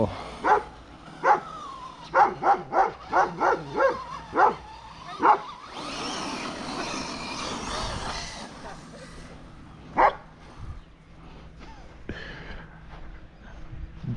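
A pet dog barks in a quick run of about eight sharp bow-wows near a campground, followed by a rough rustling burst and one more bark, with faint background noise throughout.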